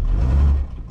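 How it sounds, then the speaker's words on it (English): A 1964 Rambler American wagon, brought back to running after 26 years, spins its tires in a loud, close, brief burst of engine roar and wheel whir that drops off toward the end. "Well, we're spinning tires now."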